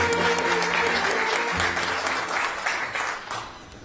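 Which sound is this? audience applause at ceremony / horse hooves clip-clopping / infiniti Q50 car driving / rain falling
audience applause at ceremony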